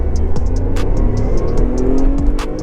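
A 2025 Tata Tiago XZ+ with a 1.2-litre three-cylinder naturally aspirated Revotron engine pulls away in first gear, its engine drone rising steadily and heard close and loud, with no talk.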